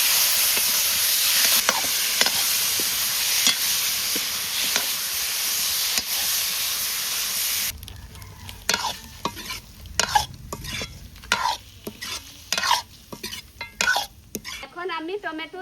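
Chicken stirred and sautéed in a wok, with a continuous sizzle and repeated spatula scrapes; the frying hiss then cuts away to sharp metallic clanks and scraping of a utensil against the wok.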